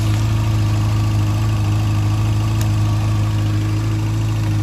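A 1992 Yamaha XJ600 Seca II motorcycle with a charging system fault idles steadily, a close, loud, even engine drone with a low throbbing hum and no revving or talk.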